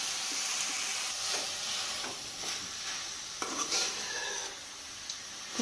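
Leafy greens palya (kashi soppu) with fresh coriander leaves being stirred in a pan, a steady scraping and stirring with soft sizzling and occasional clinks of the utensil against the pan, close and alone without talk.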